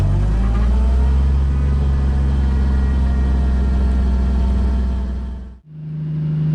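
A 1980 Jeep CJ engine rumbles steadily at a constant drone during a short test drive, then cuts out abruptly and is followed by a brief lower hum.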